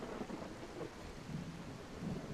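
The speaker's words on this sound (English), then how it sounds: "The thunder in the background sounds like just a distant hiss at this point." Muffled thunder rumbles low and distant in a dinosaur video game, a dull hissing roll with faint rain-like noise, quiet and continuous.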